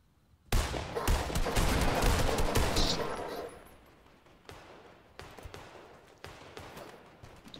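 Gunfire in Fortnite: a sudden loud burst of rapid shots that rattles on for about three seconds, then fades to scattered single cracks and short volleys at a distance.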